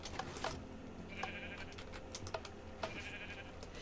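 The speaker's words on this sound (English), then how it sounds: "You're becoming a slight nuisance, sheep." Several short bleats from a sheep in a modded Minecraft survival world, faint and spaced out at intervals over quiet background with light clicking.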